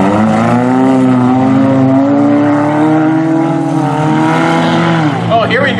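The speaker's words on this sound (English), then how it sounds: "The 48 starting to move up in a Toyota Corolla." A Toyota Corolla in a figure 8 racing heat revs hard, its engine note climbing and sustained loudly and close throughout, with a crowd-like wash underneath and a brief burst of other sound at the end.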